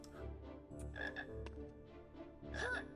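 A frog croaks in the 2001 Harry Potter and the Sorcerer's Stone PC video game, low throaty croaks repeating over a soft tonal game background, with a brighter chirping call near the end.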